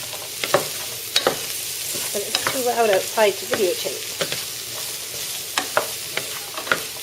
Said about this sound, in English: we're just going to saute these up until they're slightly soft